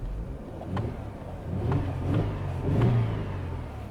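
A Mercedes C300 engine runs at a low, steady idle of a little over 500 RPM with a deep rumble and slight fluctuations, close by.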